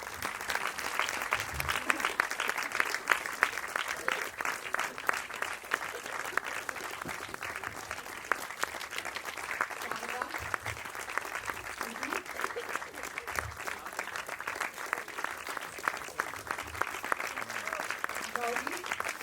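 Long, continuous audience applause at a Kumbh Mela gathering, with many hands clapping in a steady, unbroken wash for nearly twenty seconds, fairly distant and even in level, with faint voices mixed underneath.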